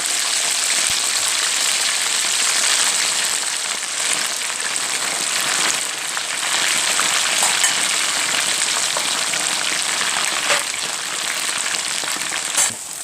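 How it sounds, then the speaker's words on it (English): Onions and aubergine deep frying in very hot oil, a steady dense crackling sizzle that holds loud and continuous throughout with occasional sharper pops, no voices. "It's gonna deep fry for about 3 to 4 minutes."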